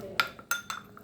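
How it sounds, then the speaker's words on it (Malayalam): A spoon clinks against a dish as a mango mixture is stirred, with a few sharp metallic taps close by over about a second. "ഓക്കെ, ഇനി അത് നമുക്ക് എല്ലാം കൂടി ഒന്ന് മിക്സ് ചെയ്യാം."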